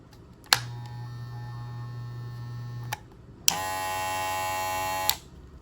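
Wahl Magic Clip cordless hair clipper switched on twice for a side-by-side comparison: a steady electric hum for about two and a half seconds, a pause, then a louder, brighter buzzing run, each starting and stopping abruptly.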